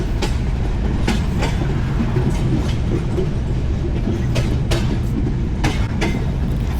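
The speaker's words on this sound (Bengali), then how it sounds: "আমাদের ট্রেনটি স্লো হয়ে যাচ্ছে।" Ekota Express passenger train running between Dhaka and Dinajpur, heard from on board as a loud, steady rolling rumble punctuated by sharp, irregular clickety-clack wheel strikes over the rail joints.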